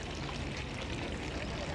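Water trickling from the spout of an old 18th-century parish pump in Granard, County Longford, Ireland: a steady, continuous pouring and splashing wash, fairly close and unbroken.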